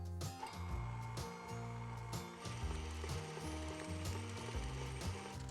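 An electric mixer beats cookie dough with a room-temperature egg and vanilla, a quiet, rhythmic mechanical whirring with pulsing, gear-like rattles that keep repeating.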